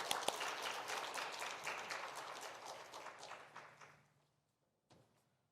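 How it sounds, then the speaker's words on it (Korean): A church congregation claps in a dense burst of applause that fades out after about four seconds, followed by silence and one soft knock. "박수 칠까요?"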